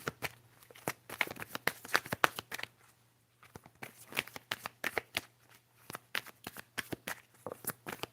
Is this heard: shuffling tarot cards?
yes